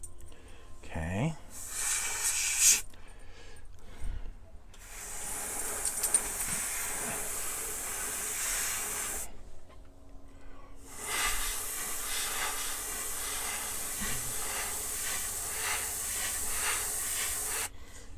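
A spray gun lays a lacquer color coat across a car hood, giving long steady bursts of airy hiss separated by short pauses, close and fairly loud, with a brief knock and some handling noise early on.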